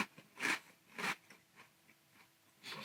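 Oreo Puffs cereal in milk being eaten close to the mic. Two distinct wet crunching bites are followed by softer chewing and another crunch at the end.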